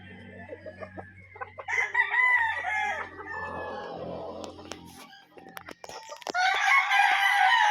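Young Kanaway gamefowl roosters, about five months old, crow loudly and close by, several overlapping crows with clucking between them.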